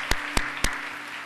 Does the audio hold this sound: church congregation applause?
yes